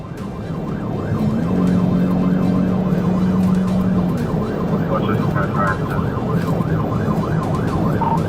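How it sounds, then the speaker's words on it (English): A police car's wailing siren sweeps up and down repeatedly over steady road and engine noise during a pursuit, with a brief horn-like tone near the start. "When lights and siren were activated, the driver refused to pull over."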